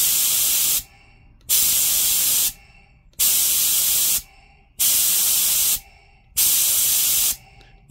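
An air spray gun fed through a diaphragm regulator hisses in loud, steady bursts of about a second each, five in all, separated by short silent gaps, with no talking.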